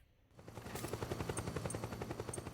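In Metal Gear Solid 4, a helicopter's rotor thumps in a fast, steady pulse under rapid gunfire during a rocket launcher attack, loud and sustained after a brief quiet start.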